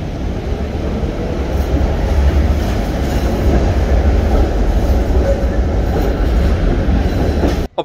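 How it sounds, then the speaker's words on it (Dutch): Old 1950s PCC tram pulling away through an underground turning loop in Brussels, a loud sustained rumble of wheels and motor echoing in the tunnel for several seconds before cutting off abruptly. "je zag net de oude tram wegrijden"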